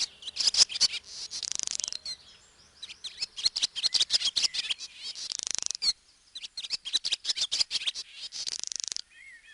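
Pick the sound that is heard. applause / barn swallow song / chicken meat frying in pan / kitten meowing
barn swallow song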